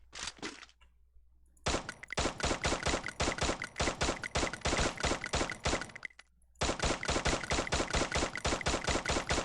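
Rapid automatic gunfire in the video game Free Fire, with long sustained bursts of sharp, evenly spaced shots, a brief pause, then another extended burst, loud and close with no talking.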